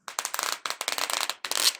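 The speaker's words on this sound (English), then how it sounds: "Fireworks." Crackling, popping bursts like a fireworks sound effect come in three quick clusters, loud and close, with brief gaps between them and no speech.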